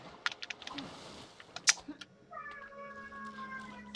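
A pet cat meows several times over the Lego The Lord of the Rings game sounds, with sharp, fairly loud cries and a few clicks. Game music follows.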